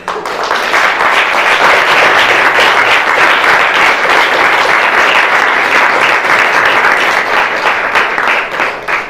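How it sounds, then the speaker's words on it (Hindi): A church congregation at a Sunday service breaks into loud, sustained applause, dense overlapping claps holding strong and close throughout with no speech over them. "अच्छी ताली बजाकर हम परमेश्वर का धन्यवाद करेंगे"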